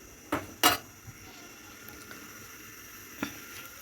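Night-time home cooking with pots and pans, a few sharp close metallic clanks and knocks separated by quiet stretches over a faint background hiss.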